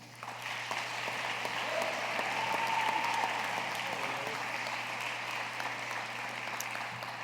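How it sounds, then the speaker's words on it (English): Sustained applause from a seated audience greets a student award recipient at a 2024 university awards ceremony, an even, dense clapping that holds steady throughout without talk. "please give a round of applause for Tyler Calhoun"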